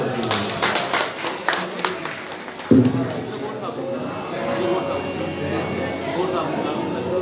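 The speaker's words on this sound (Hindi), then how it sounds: "जरा एक बार ताली बजा दे जरा" A crowd at a Shri Ram Katha gathering in the Raghunath temple in Bilaspur claps for a few seconds, a brisk round of applause that stops abruptly and gives way to someone speaking over a microphone.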